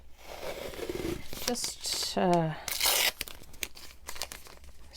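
Close, crackly ripping of a strip of AliExpress washi tape during paper crafting, a couple of sharp tearing bursts, with a voice speaking briefly over it.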